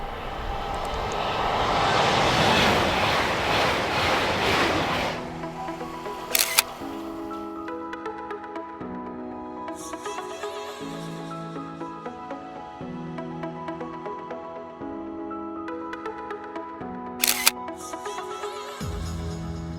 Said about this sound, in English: Get a long shutter speed for a long train going past.